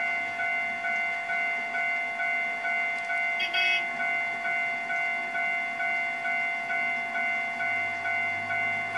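A train approaching a Japanese level crossing in the Trainz 2 railway simulator, with the crossing's steady pulsing warning chime ringing throughout and a faint low rumble of the train rising near the end.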